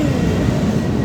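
A small ride-on train rolls along, giving a steady, close rumble with a faint rhythmic rattle of wheels and no voices during the short stretch.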